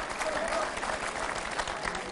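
Audience applause for Abderrahmane in the studio of an Algerian TV music and comedy show, a dense steady clapping that fills the whole stretch at an even level.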